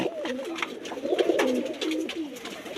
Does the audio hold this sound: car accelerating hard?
no